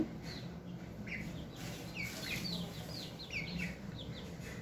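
Young chicks of several colours, a few days to about 25 days old, peep continuously in overlapping high chirps close by, with a steady low hum underneath.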